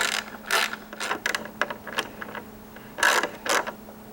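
Tool clicks and ratcheting as exhaust bolts on a 2015 Yamaha R1 get a final torquing down with a Taylormade Racing exhaust; short, irregular bursts of mechanical clicks, close and moderately loud, with no talking.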